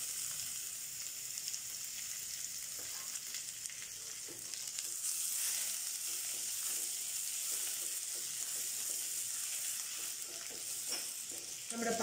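Garam masala with crushed ginger and garlic frying in a pan for a fish molee, giving a steady, close sizzle with soft stirring scrapes throughout.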